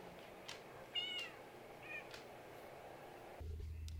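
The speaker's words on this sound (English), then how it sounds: "Whenever the kittens meow, sweeties meow." Kittens give a few faint, short meows, roughly three thin calls spaced across a quiet background, with a low hum coming in at the end.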